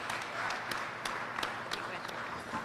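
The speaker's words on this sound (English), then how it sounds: "Let's give her a round of applause" An audience at the Great New York State Fair applauds the fair director, a brief burst of steady clapping from a modest crowd with some voices mixed in.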